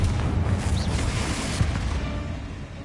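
A blasting-spell explosion in the Hogwarts Legacy video game, a dense low rumbling burst that rolls on steadily for a few seconds, loud and close with no talk over it.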